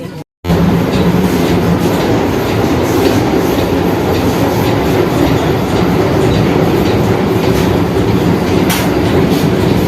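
A Vande Bharat express train bound for Darjeeling roars along the track. A loud, steady rumble and rattle of the carriages runs without a break after a brief moment of silence at the start, and no voices are heard.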